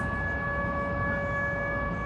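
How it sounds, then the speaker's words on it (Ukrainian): Civil defense air raid siren in a Ukrainian city, a steady sustained wail holding a constant loud tone throughout, no voices over it. "На знову повітряна тривога."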